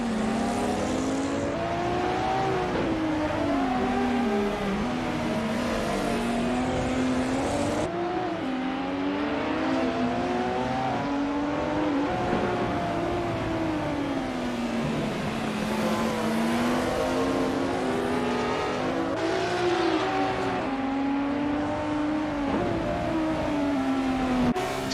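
Vintage 1973 and 1974 Porsche 911 RSR race cars in a racing game at Deutschlandring, engines howling as they rise and fall through gear changes, with one car's revs sweeping up and down steadily and other cars droning close alongside.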